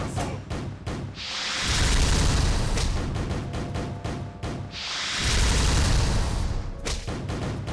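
Cannon fire in the dungeon-crawling video game Shiren 6: two deep, booming blasts a few seconds apart, each a loud rumbling burst, with busy game sound effects between them and no talking.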